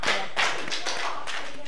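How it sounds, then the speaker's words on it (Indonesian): Children clapping their hands during a classroom lesson: a few broad bursts of scattered, uneven clapping across a short stretch, fairly close and moderately loud. "Tepuk tangan buat Nak Fahri."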